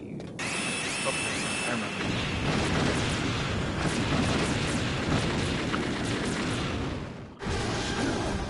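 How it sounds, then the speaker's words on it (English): Explosion in the Metal Gear video game, a loud sustained roaring blast of broadband noise lasting several seconds, briefly cutting out near the end before resuming. "cool that the explosion forces pushes Snake back and he just slides backwards"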